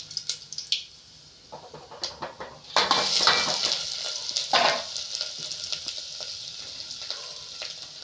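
Ground rasam paste, pounded on a stone, goes into hot oil tempering with asafoetida. Clanks of a utensil on the pan come first, then a burst of loud sizzling that settles into steady frying crackle, with scraping stirs throughout.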